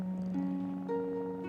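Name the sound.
cat purring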